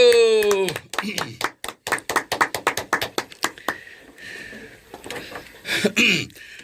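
Elderly audience members at a Hongcheon senior center magic show clap after a vanishing CD trick, a series of sharp, spaced claps in a loose rhythm, with a voice talking before and after.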